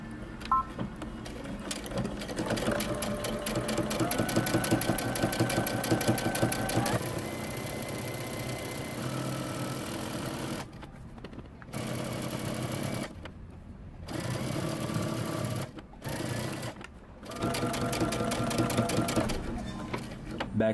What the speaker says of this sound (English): we're gonna stitch close to the edge all the way down